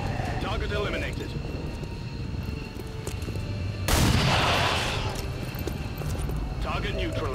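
Gunfire in XCOM 2, with a sharp loud burst of shots in the middle cutting through steady game ambience and music, voices speaking before and after.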